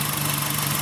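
A Renault Twingo 1 engine idles steadily after starting, with the timing belt just replaced; a constant mid-low hum with a faint tonal drone runs alone and without a break.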